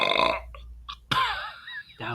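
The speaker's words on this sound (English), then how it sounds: "he just burped" A loud, close burp after drinking Sprite, a short croaky belch with a brief vocal sound before it and another voice following.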